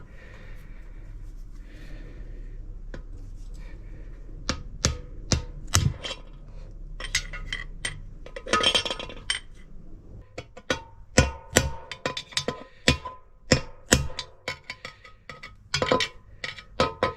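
Sharp metallic taps from hammering a bearing race into a Ford Fiesta ST150 IB5 limited-slip gearbox, with scattered single strikes early and denser rhythmic tapping later, up close with breathing sounds.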